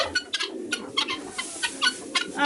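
Chickens feeding on hay in a winter coop cluck in a quick, irregular series of short, close calls, several birds overlapping against a soft rustling background.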